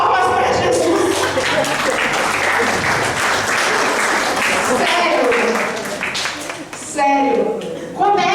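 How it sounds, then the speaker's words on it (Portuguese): Audience applause at a Portuguese-language talk, dense clapping with voices mixed in, tapering and thinning toward the end as a voice speaks over the fading claps. "palmas para Jesus."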